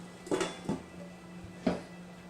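A lid is set onto a pan of fresh cheese tortellini cooking on the stove, making a few close metallic clanks, three sharp knocks spaced over about two seconds, with no talking.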